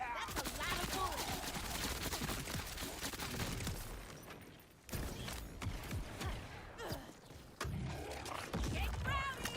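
Dense, continuous gunfire from Borderlands 4 video game combat, rapid bursts of many shots filling the clip with a couple of brief lulls, loud throughout alongside other game effects.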